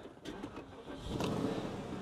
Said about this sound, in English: turn the ignition on